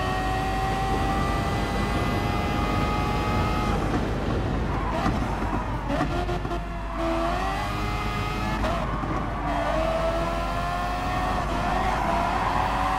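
Engines of a Mercedes race car in Gran Turismo Sport howl through gear changes and shifting revs, with tonal whines sweeping up and down over a constant loud mechanical bed.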